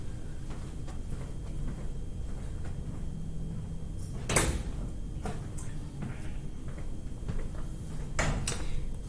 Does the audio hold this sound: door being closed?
yes